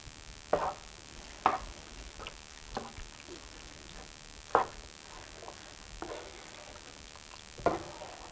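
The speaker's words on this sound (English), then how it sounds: "I'm going to stir all this up" Hamburger casserole mixture being stirred in a pan, a spoon scraping in a handful of distinct sharp strokes separated by pauses, with a faint sizzle underneath and no talk.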